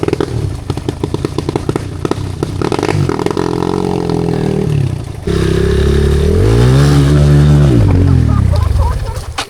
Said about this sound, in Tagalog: Hapit gunawa ang motor ni Yoyo.